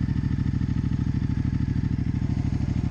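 Ducati XDiavel motorcycle engine running at a steady, loud, close idle, with a strong rhythmic low-end throb and a pulsing beat that holds evenly throughout without revving.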